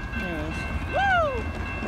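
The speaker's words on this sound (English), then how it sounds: "I think it's the local or the manifest, the little manifest train" A small manifest freight train passes at a distance with a low rail rumble, and a brief rising and falling horn-like tone sounds over it.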